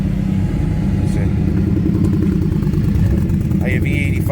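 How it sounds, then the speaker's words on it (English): Motorcycles roar past on a road, a loud, steady engine drone filling the whole stretch with no break, a brief higher whine near the end. "all these bikes are flying through here"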